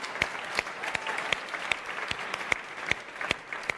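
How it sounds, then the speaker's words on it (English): An audience applauds at an official presentation event, a steady patter of claps with sharp individual hand strikes standing out at an even pace, close and continuous with no voices. "Oh, more round of applause."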